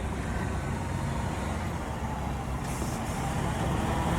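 A Freightliner semi truck drives along an American road, its broadband engine and road rumble steady and loud throughout with no talking.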